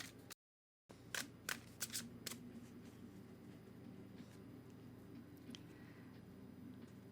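Tarot cards being shuffled in sped-up playback, a few quick crisp riffling bursts near the start, then faint quiet room noise.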